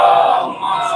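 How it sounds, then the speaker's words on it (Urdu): A gathered audience at a Shia majlis-e-aza mourning assembly recites salawat together, a single sustained mass of voices rising and fading briefly, loud and close, with no lone speaker above it. "صلوات پڑھیں حضرت آل محمد پر"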